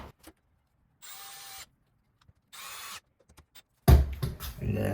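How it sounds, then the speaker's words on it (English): A power drill drives two screws into the trim of a newly fitted door handle, giving two short whirring bursts separated by quiet, with small clicks, then a louder clattering handling noise at the end. "final step here is put the 2 screws in"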